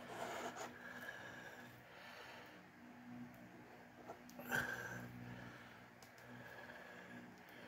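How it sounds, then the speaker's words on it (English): Thick PPG acrylic paint being scraped off the surface of a fluid-art painting: faint, close rasping strokes at a quiet level, with one sharper scrape about midway. "there's way too much paint on there. I'm gonna scrape what I can of it off."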